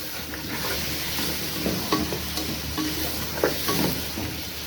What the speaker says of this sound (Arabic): واشوح الكلام ده كده مع بعضه